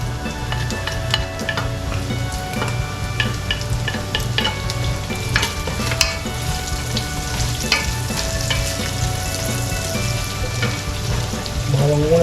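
Garlic sizzles and crackles steadily in a hot pan already holding browned onion, bay leaf and intestine, a close, continuous frying hiss with occasional stirring clinks.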